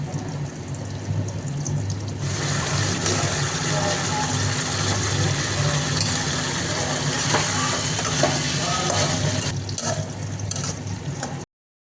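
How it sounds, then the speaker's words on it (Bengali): Chopped green chillies fry in a pan for chilli chicken, giving a steady close sizzle that holds for several seconds, with a faint stirring noise before it cuts off. "দু চারটে কাঁচা লঙ্কা কুচি দেওয়া হলো এটা ভালো করে ভাজা হয়ে গেলে"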